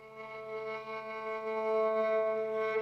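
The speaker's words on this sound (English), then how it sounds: "One is the flautando, which sounds like this." Sampled violin bowed flautando from Emergence Audio Violin Textures: a soft, airy sustained tone with steady harmonics, holding one continuous note at moderate, even loudness with no voices.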